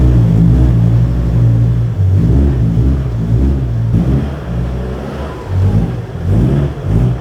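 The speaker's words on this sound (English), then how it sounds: "Pascal drove my V70 diesel on the car lift." A Volvo V70 diesel idles and revs in a garage as it is driven onto a car lift, a loud, close engine rumble with swelling throttle surges and brief dips.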